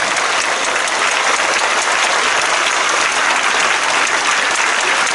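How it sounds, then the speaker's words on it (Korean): A church congregation gives loud, dense, steady applause to welcome the pastor, with a uniform wash of clapping and no talk over it. "박수 환영합니다."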